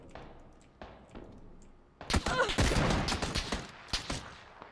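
Gunfire in the battle royale game PUBG: a few scattered shots at first, then a dense, loud burst of rapid shots and impacts in the second half.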